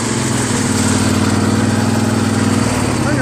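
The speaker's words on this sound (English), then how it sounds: "21 horsepower Intech Briggs V-twin" A 21-horsepower Briggs & Stratton Intech V-twin on a lawn tractor idles at lowest throttle, giving a steady, close, even mechanical rumble that stays level throughout with no voices.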